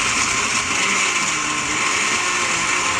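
A cheap blender roars steadily on its highest setting while making a green smoothie, a loud whirring motor hum with a rattling edge, constant and close, with no voices.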